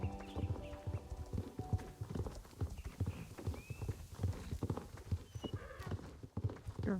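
Horse hooves clip-clop steadily at a walking rhythm in Star Stable Online, a Noriker horse moving close and fairly loud, with an occasional whinny and game ambience around it.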